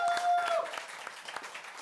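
A short burst of applause from an audience at the Butterfly Club, brisk clapping under a faint tone, fading slightly toward the end.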